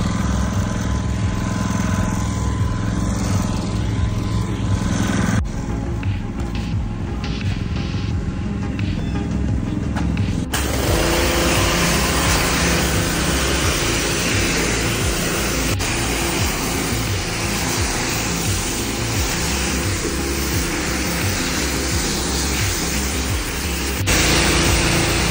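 A washed car is driven to air-dry, producing a loud, continuous engine and road drone with wind rush. The drone holds steady the whole way, with a couple of abrupt shifts in tone, and no voices are heard.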